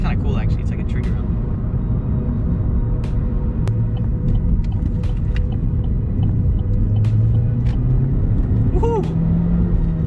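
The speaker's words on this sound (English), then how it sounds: "the turbo, you gotta spool it up, but once it's spooled up, you get moving" Turbo engine of a 2017 Chevrolet Cruze hatchback while driving, a steady low rumble and drone heard from inside the car, with a voice talking and a short cheer over it.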